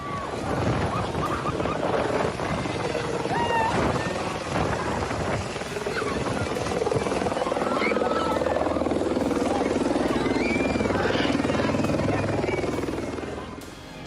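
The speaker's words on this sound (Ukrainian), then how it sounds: "На свято в одну зі шкіл він, немов справжній пан, вирішив спуститися на персональному гелікоптері" A helicopter descending to land at a school during a holiday event, its rotor noise a loud, continuous throbbing roar with broad wind-like rush throughout, steady and close.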